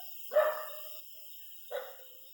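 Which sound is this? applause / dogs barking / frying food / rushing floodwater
dogs barking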